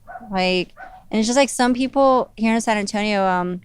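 A pet dog barks and yips indoors in short bursts, sounding close and loud, mixed in with a person talking over it.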